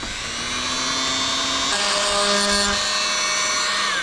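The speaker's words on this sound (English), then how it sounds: "Oscillating tool." An oscillating multi-tool cuts at a vent window, giving a steady, loud high-pitched whine that holds for about four seconds, with its pitch shifting once midway.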